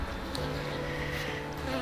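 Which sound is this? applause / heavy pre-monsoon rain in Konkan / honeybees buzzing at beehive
honeybees buzzing at beehive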